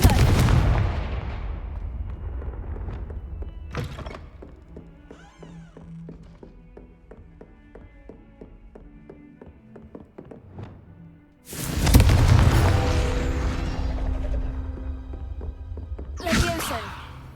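In Hogwarts Legacy, a Confringo fire spell bursts into a loud, roaring explosion, followed by a quieter stretch of soft game tones before a second heavy blast and a final burst.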